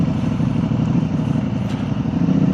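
A Ducati motorcycle engine chugs at low revs, giving a steady, loud, uneven throbbing rumble heard up close from the rider's position, with no voices.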